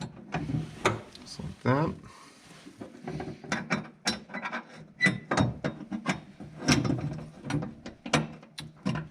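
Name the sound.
ratchet tightening bolts on lithium battery kit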